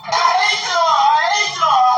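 A loud, high-pitched scream from a family member in a courtroom, close and sustained for about two seconds, wavering in pitch with one short break.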